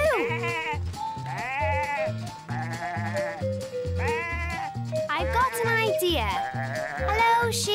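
Cartoon sheep in an animated children's show bleat over and over in loud, close, wavering cries that rise and fall, with short gaps between them.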